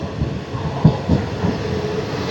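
A train rolls along the rails near Kuzhithurai, giving a steady low rumble with a few soft clunks from the wheels. It sounds close and continuous, as if heard from inside the carriage, and no one speaks.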